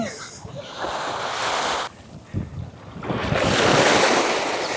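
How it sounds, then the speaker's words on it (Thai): Sea waves wash and surge onto a beach in Rayong, Thailand, swelling and easing over several seconds, with gusty wind buffeting the microphone. "น้ำทะเลใสมากเลย ใช่ ตรงนี้เรียกแคนเทอรี่เบย์ระยอง"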